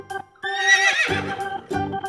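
A horse gives a loud, close whinny that shrills and wavers, followed by a couple of shorter snorting calls.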